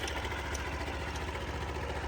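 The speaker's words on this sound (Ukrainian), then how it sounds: "М'якенько працює двигун, але якось незвично, чесно кажучи." A small 49cc fuel-injected 2017 Honda Super Cub scooter engine idles close by with a steady, low, throbbing putter and no other sound.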